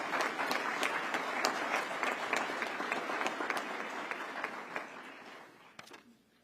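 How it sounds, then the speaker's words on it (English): Audience applause at an evening police community relations awards ceremony for an award-winning officer, steady dense clapping from a large crowd that holds for several seconds and then thins and fades near the end. "Give Officer Youngblood one more round of applause."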